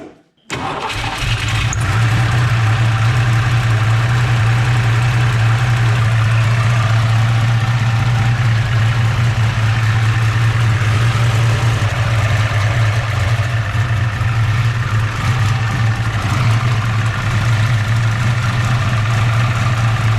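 A 363 stroker turbo engine cranks and fires after a short gap, then settles into a loud, steady idle with a deep drone that holds unbroken for the rest of the clip inside a garage.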